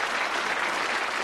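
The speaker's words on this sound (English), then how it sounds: "Give him a round of applause." Studio audience applause on a game show, a short, dense wash of many hands clapping evenly and fairly loud, with no voices over it.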